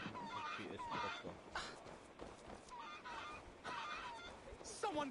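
Chickens clucking and squawking in Assassin's Creed Valhalla, faint bursts of fowl calls scattered through a busy game scene with background voices.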